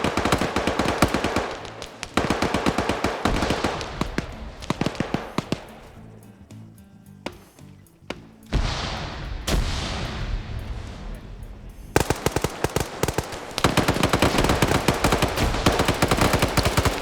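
Video game match gunfire, rapid automatic bursts with an AK among the weapons, loud and close, broken by a short quieter lull with scattered single shots before heavy sustained firing resumes.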